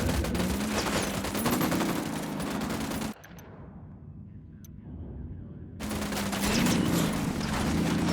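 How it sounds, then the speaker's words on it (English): Bursts of rapid automatic gunfire from the video game Ghost Recon Wildlands crackle loud and dense, cut off by a quiet gap of a few seconds before the shooting resumes just as heavily. "Open fire."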